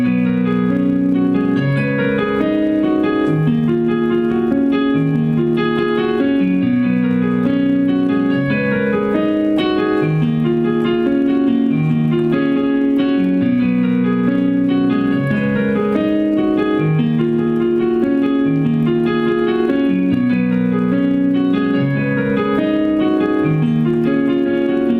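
Solo piano plays the looping chord progression of a song, a steady repeating pattern of mid-register chords that continues evenly throughout.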